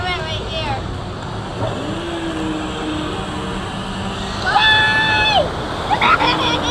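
River raft plunging down a waterfall on the Kali River Rapids ride at Disney's Animal Kingdom, with a constant loud rush and splash of water and bright ringing tones over it.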